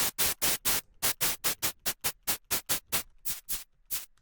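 Synthesized white-noise shaker built from the 3X OSC plugin in FL Studio, playing a steady run of short, bright hissy bursts in a rhythmic pattern with a brief pause near the end.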